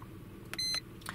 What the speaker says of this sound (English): You can turn the beeping off if it does get too much for you